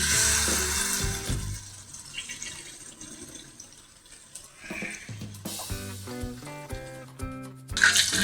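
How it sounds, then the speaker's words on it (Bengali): Batter-coated lotte fish, stuffed with filling, drops into hot oil and sizzles with a broad, steady hiss that later softens under music playing alongside. "এবার মাছটি নিয়ে আমি তেলের মধ্যে দিয়ে দেব।"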